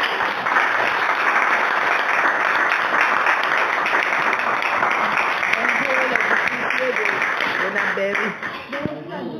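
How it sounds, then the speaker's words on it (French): An audience applauds a mother at a francophone church testimony service, a loud, dense, steady clapping that fills the room for about eight seconds, then thins out as a voice begins to speak near the end. "Applaudissez pour la maman."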